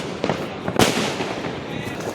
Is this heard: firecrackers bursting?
yes